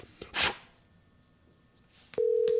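A telephone call ringing out unanswered: a brief rustly burst, then quiet, then a steady single ringback tone starting near the end and holding on, loud and clear with no talking.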